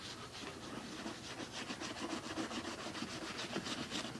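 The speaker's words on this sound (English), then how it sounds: "So, just scrubbing over the entire boot." A brush scrubs polish back and forth over a leather boot in quick, steady rhythmic strokes, a close, continuous bristly rubbing with no talk.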